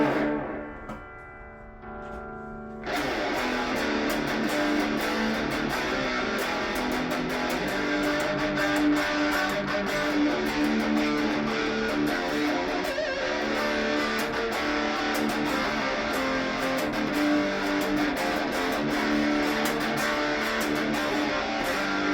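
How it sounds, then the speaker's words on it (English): Drop-tuned electric guitar through a Joyo Jam Buddy amp on its high gain channel: after a quieter opening, loud saturated riffing kicks in and continues with thick, sustained distorted chords. "Now I'm gonna boost that gain, and we're going to switch over to the high gain channel,"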